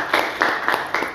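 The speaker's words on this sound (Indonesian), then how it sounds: "Kita berikan tepuk tangan." An audience claps in a hall, a short burst of scattered hand claps arriving in a few rhythmic swells, moderately loud and without talk over it.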